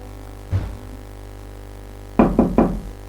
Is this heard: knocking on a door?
yes